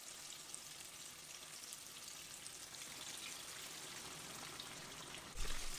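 Chicken pieces dredged in mashed-down flour fry in hot oil with a steady, dense crackling sizzle throughout, a slight bump in intensity near the end.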